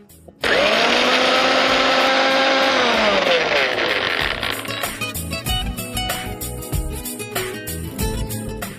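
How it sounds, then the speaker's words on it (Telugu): A mixer grinder powders roasted cumin, coriander, dried coconut and cashews: a sharp motor whine starts loud, drops in pitch as it loads, then turns into a rough, rattling churn with uneven bursts. "మిక్సీ పట్టేసుకుందాం."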